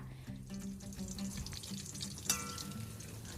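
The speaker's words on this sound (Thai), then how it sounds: "ทอดจนกว่าตัว ทอดมันของเรานะคะ กับใบโหระพาในกรอบดีค่ะ" Shrimp cakes and basil leaves deep-frying in hot oil, a soft steady bubbling sizzle at low level with a faint clink partway through.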